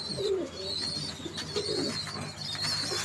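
Imported Pakistani Tedy pigeons coo softly in a loft, several overlapping low warbling calls close by, with faint higher chirps and rustling in the background and no talking.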